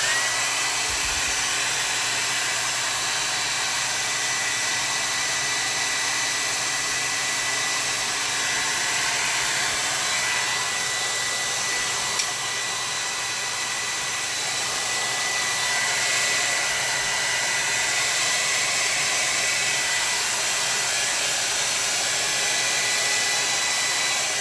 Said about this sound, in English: I'm going to use the blow dryer just to do a quick dry off.